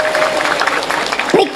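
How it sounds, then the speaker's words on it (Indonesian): Brief applause from a women's religious study gathering in Langansari, a dense broadband patter with voices mixed in throughout the short burst. "Tepuk tangan dulu buat muslimat Langansari."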